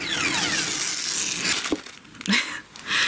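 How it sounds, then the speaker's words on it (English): Curling ribbon for a cocoa packet gift holder is pulled and stretched close up, giving a loud continuous crinkling, tearing rasp for a couple of seconds, then a few shorter scraping pulls with brief pauses. "And then it is curling ribbon. Guard your ears, I'm telling you now."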